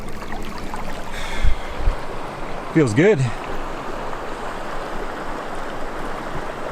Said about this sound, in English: navigate this raging rapids of water